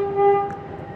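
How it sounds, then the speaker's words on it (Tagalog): An old, run-down train sounds a steady tonal horn blast over a low rumbling background, fairly close, with no voices. "ayan ang ating tren, no?"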